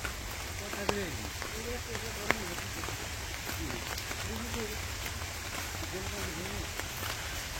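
Steady patter of rain hisses over the whole stretch, with a couple of sharper drips, while a person talks quietly underneath.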